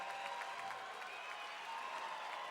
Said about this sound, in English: How about a round of applause for our matchmaker that put all these fights together tonight?